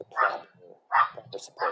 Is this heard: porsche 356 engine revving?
no